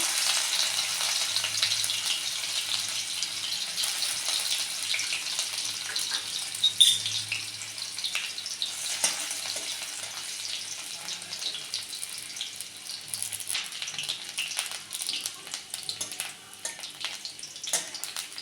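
Chopped garlic frying in oil in a kadai, a steady close sizzle and crackle that holds for the whole stretch, with small bumps and spatters scattered throughout and no talking.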